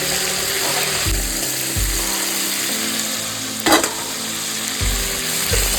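Crab frying in hot oil in a pan, a steady loud sizzle with dull thumps and scraping knocks as pieces are moved around, plus one sharp clatter.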